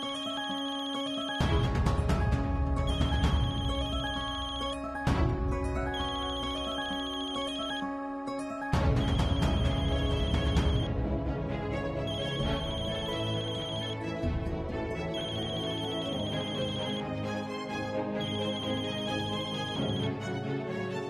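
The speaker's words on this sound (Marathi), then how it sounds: "उचलू का फोन?" A phone rings with a repeating electronic ringtone, bursts of tones recurring every couple of seconds for a long stretch, clear and close with no talk over it.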